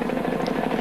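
Steady, loud helicopter rotor drone filming a 1987 motorcycle race at Calder Park, continuous with no talk.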